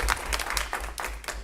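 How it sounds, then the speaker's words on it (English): Applause for a guest speaker, a university Vice Chancellor, at a student senate meeting, heard as a short, moderately loud patter of clapping with uneven bursts over a low background hum. "Please give him a round of applause."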